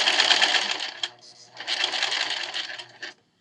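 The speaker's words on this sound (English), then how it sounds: "So I'm just going to start sewing" A sewing machine stitches a fabric face mask in two short close bursts of rapid mechanical buzzing separated by a brief pause, then stops abruptly.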